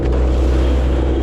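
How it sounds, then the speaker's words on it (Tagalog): A steady roar of strong amihan wind over the sea, heard from aboard a boat, with constant low rumble and wash of water filling the short stretch without pause. "Medyo malakas na naman yung hanging amihan mga kapishing."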